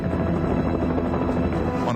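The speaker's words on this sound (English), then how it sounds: "rocket-propelled grenades hit Kern's Huey helicopter" A steady, dense Huey helicopter rotor drone fills the clip, loud and continuous with a low throbbing chop underneath.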